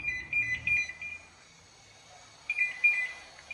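An electronic alarm beeps in two bursts of rapid high tones, separated by a quiet gap, with a low rumble underneath at first.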